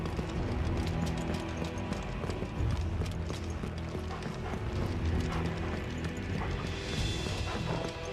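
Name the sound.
footsteps running through blood in Final Fantasy XVI video game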